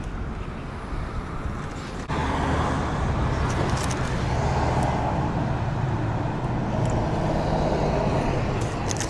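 Busy street intersection with cars, buses and trucks passing nearby, a continuous roar of traffic that rises sharply after a couple of seconds and stays loud, with occasional higher hisses like air brakes.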